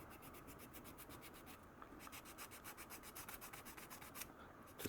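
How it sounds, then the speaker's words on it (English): Sandpaper rubs a metal joint on a handmade candle snuffer in quick, steady back-and-forth strokes. The scratchy rasp is close and continuous, pausing briefly twice, with no talk over it. "just clean this up with some sandpaper and check the joint out"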